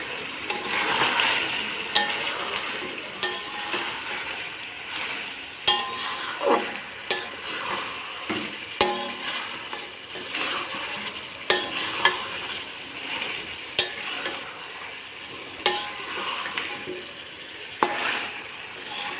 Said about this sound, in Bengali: এরপর তরকারিটা একটু নেড়ে দেবো।